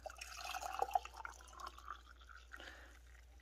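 Homemade cinnamon dolce syrup is poured into a glass jar, making soft, continuous liquid trickling and dripping sounds that fade toward the end, close and fairly quiet.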